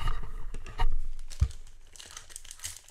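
A Japanese 2018 Yu-Gi-Oh Flames of Destruction booster pack is torn open and crumpled, with close crinkling foil rustles and a sharp tear in the middle.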